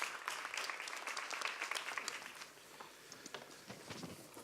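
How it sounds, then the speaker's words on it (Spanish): Audience applause welcoming two guests onto a stage at an ideas conference, a steady crackle of many hands clapping at moderate volume that thins slightly toward the end. "un aplauso para ellos"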